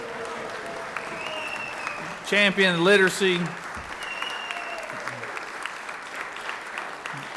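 Senators in a state legislative chamber applaud a colleague, a steady wash of clapping running under a voice, with a brief louder swell of cheering voices partway through.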